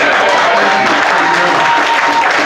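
Audience applause at a stand-up comedy show, a steady dense wash of clapping filling the room throughout with a crowd murmur mixed in.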